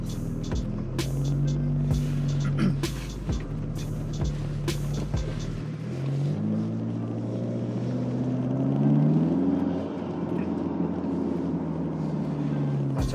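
Car engine running in stock form during a drive, a steady low rumble with shifting engine tones that rise and settle as it accelerates, heard from inside the cabin with no one speaking.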